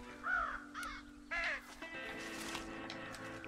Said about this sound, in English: Scare the crows out of the silo.